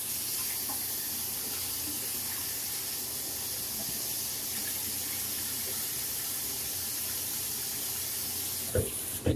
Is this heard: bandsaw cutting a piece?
no